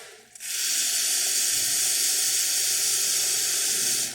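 Water runs from the hot water outlet of a Profitec T64 espresso machine in a steady, loud hissing rush that starts abruptly after a short pause and continues unbroken, with no talk.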